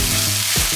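Rice tipped into a hot pan for restaurant-style egg fried rice crackles in a loud, continuous sizzle, with a brief scraping stir near the end.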